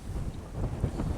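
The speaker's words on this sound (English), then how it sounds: "it's so windy today" Strong wind gusts on a lake from a fishing boat, low buffeting rumble across the microphone with faint water movement, steady and without speech.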